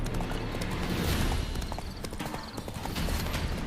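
Roach the horse from The Witcher 3 trots along in game, a continuous loud clip-clop of hooves mixed with rustling and ambient game sound, steady rhythm close by.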